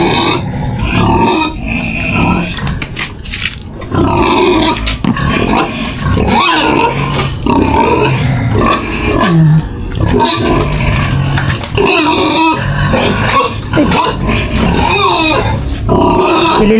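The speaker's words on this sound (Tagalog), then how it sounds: "para makita nyo rin yung mga baboy" Pigs in a farm pen where piglets are being moved, grunting, snorting and squealing in a dense, continuous, close chorus that stays loud throughout.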